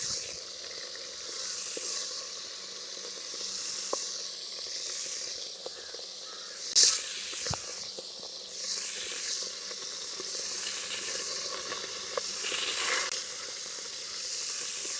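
Steady sizzling hiss of dried fish frying in hot oil, with a few sharp spattering pops, one louder crackle partway through, no voices.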